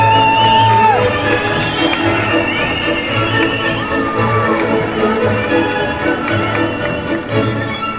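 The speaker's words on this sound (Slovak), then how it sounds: "Veľký potlesk." A large crowd applauds and cheers for Team Slovakia at the opening ceremony of the 2017 youth world championships in Osrblie, a steady wash of clapping under a loudspeaker voice with music playing.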